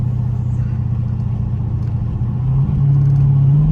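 A Dodge Hellcat rolls down a city street from the driver's seat, its engine a loud, steady rumble that swells slightly near the end, with a faint supercharger whine on top.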